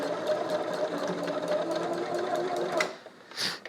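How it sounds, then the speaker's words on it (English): Sewing machine stitching a bar tack back and forth over the middle seam of a Spider-Man test mask, a steady close motor whir with rhythmic needle clatter that stops near the end, followed by a brief rustle. "I'm going to bar tack a little bit right here over the middle seam just to get a little bit more strength."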